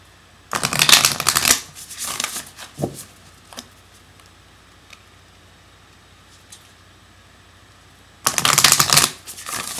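Playing cards are riffled and shuffled in two quick, crisp bursts, one near the start and another near the end, with quiet handling between.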